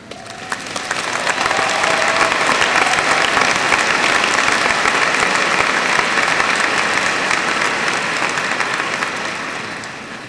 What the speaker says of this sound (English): stand as we applaud them